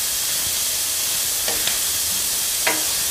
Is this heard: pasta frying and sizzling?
yes